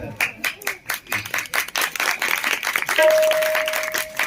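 Sharp hand claps repeat in an even, counted rhythm, fairly loud and close, later joined by a steady sustained tone.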